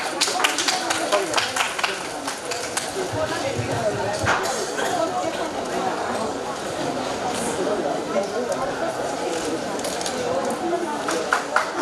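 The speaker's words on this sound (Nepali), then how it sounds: "दिनेश विष्टजीको लागि एकचोटि ताली बजाइदिनु" Dense applause from an audience at a fashion show put on by a model agency, steady and sustained throughout, with a voice talking over the clapping.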